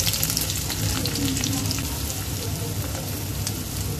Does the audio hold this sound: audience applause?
no